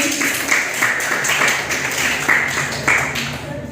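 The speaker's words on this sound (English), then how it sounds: "Clap for team B." Audience applause for a team during a school quiz competition in a middle-school classroom, a steady wash of many hands clapping with sharper bursts throughout, fairly close and continuous.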